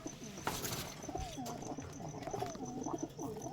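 Rajshahi Giribaz pigeons coo softly in a series of rolling, throaty calls, with a few sharp knocks and faint background noise around them.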